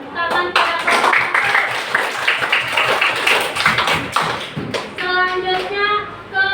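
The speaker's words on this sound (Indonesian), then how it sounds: "Kita beri tepuk tangan pada kelompok 1." A classroom of students applauding a presentation group, a burst of dense, quick clapping that swells and thins over several seconds, with a teacher's voice speaking at the start and end.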